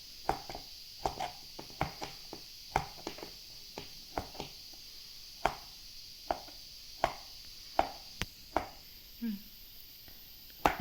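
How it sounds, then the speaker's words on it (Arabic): Boiled carrots being chopped with a knife on a board, a steady run of sharp, close taps at an uneven pace, each cut crisp and distinct against quiet background hiss. "انا غادي ندوز نقطع الخيزو"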